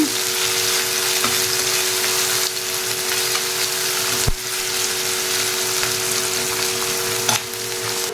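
Plenty of sliced large onions frying in a pan, a loud dense sizzle running continuously with a few sharp clicks and a steady hum underneath, no voices.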